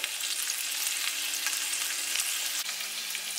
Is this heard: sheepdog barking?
no